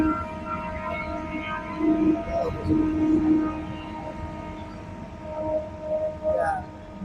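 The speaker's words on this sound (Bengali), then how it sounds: "ট্রেনের হর্নের জন্য কিছু বোঝা যাবে না" A passing train near Bijoypur, Bikrampur sounds its horn in long, loud tonal blasts that swell and fade over several seconds, above the rumble of the moving cars.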